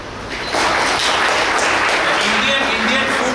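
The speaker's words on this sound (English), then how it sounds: "Let's clap for it." An audience of hotel management students applauds at a chef's inspirational talk, a dense, steady wash of clapping that swells in within the first half second and holds loud throughout.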